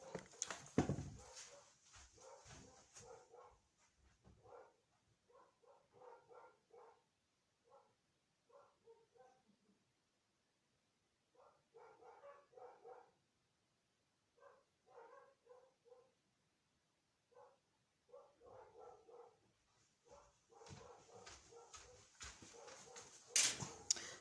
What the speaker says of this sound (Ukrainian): Вибачайте, собаки так гавкають в мене.